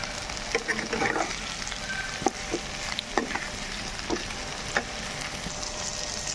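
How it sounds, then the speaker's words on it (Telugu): Pieces of taro root fry in a pan with turmeric and salt, a steady sizzle under occasional scraping and clinking strokes as they are stirred, close and moderately loud. "ఇప్పుడు ఒకసారి అంతా కలుపుకుందాము"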